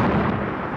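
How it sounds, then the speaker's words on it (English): A magical lamp explodes in a 1991 film as a short, loud, booming blast with a deep rumbling decay, alone and close. "Seems to have been some sort of explosion, sir."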